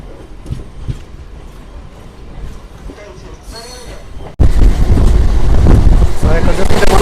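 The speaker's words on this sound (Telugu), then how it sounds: "ట్రైన్ వచ్చేసి అల్లేరు నుంచి అయితే బయలుదేరిపోయింది" A MEMU passenger train rolling out after leaving Aler station, heard from inside a carriage: a muffled rumble with a brief squeal that suddenly swells into loud, broadband rushing wheel and wind noise, with some voices.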